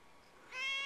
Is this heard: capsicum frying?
no